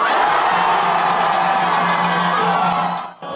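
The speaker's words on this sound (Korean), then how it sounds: "옛 전남도청에는 환호가 터져 나왔습니다" A large crowd erupts in loud, sustained cheering and whooping outside the old South Jeolla provincial office, a dense roar that holds steady for several seconds before breaking off abruptly.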